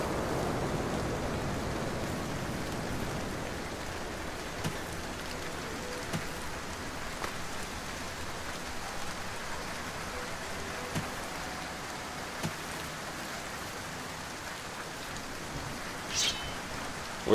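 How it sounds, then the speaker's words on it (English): Rain falls steadily in the Morrowind-based Oblivion mod game world, a constant soft hiss of drops on surfaces with occasional faint taps, even and moderately loud throughout, with no voices. "Nice and rainy."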